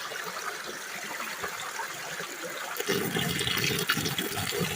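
Material dumped into the water of a gold sluice bucket auto feeder, a steady watery rush that swells louder and heavier partway through, close by with no talking.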